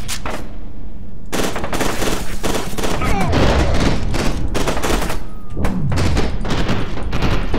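A frag grenade detonates in the first-person shooter Fear 2 amid a loud, nearly continuous barrage of gunfire, with heavy low booms rolling under the rapid sharp shots.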